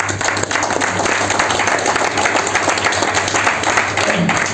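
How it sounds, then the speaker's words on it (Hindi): An audience at a big RCM business event in Agra breaks into loud, sustained applause: dense, continuous clapping from a large crowd filling the room. "एक बार तालियां बनती हैं भाई।"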